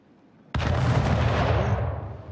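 A ship under cannon fire in Anno 1800: one sudden, loud boom of artillery, followed by a long rumbling, crackling decay.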